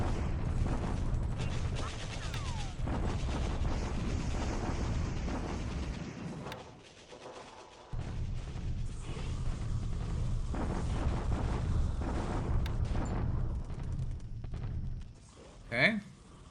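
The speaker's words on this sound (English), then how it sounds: "Allied bombardment to Woomba." Rolling bombardment explosions and rapid gunfire in the wartime strategy game War in the Pacific, loud and continuous with a brief lull midway and a final sharp burst near the end.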